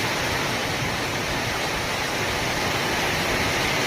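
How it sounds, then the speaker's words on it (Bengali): Heavy rain in Chennai pours down steadily near a tin roof, a dense, unbroken hiss that fills the whole stretch at even loudness, with no voices. "বৃষ্টি হচ্ছে ভাই, 2 দিন ধরে বৃষ্টি হচ্ছে"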